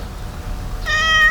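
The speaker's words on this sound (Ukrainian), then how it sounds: "Друзі, погляньте, щойно зустрів котика." A stray cat met beside a wild lake in Kyiv lets out one clear, close meow near the end, after a stretch of quiet outdoor background.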